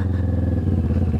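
A motorcycle riding along a rough trail through private property, its engine droning steadily and loudly with faint clatter from the bumpy ground.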